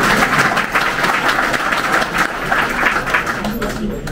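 Conference audience at a StartUp Academy event in Dschang applauds in a loud, continuous wash of clapping throughout.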